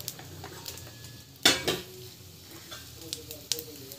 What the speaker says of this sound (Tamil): ஸோ இது கொஞ்ச நேரம் வந்து ஃப்ரை ஆகணும்.